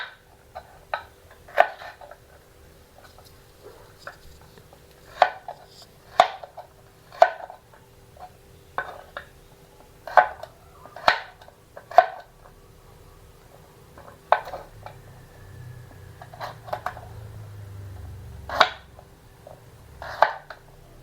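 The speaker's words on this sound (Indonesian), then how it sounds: "ini aku potong-potong dulu ya untuk bumbunya sebelum dihaluskan atau diulek ya secara manual" Ingredients chopped on a board for an Indonesian spice paste for urap sayur: sharp knife chops in an irregular rhythm, close and distinct, alone with faint background.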